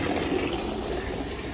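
Steady broadband rush of drinking water running from a public tap outdoors in Padua, continuous and close, with no talk over it.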